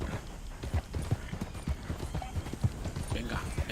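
A horse gallops in Red Dead Redemption II, its hooves thudding in a quick, uneven rhythm of close beats, with someone talking over the hoofbeats.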